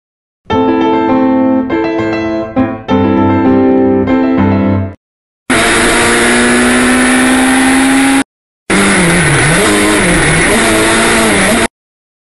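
A Lada race car fitted with roll bars starts and accelerates hard, its loud engine climbing through revs in several bursts, with brief gaps between the pulls, and no one speaks over it.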